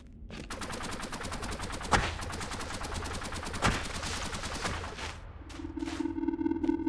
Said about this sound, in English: there's the evil sound cannon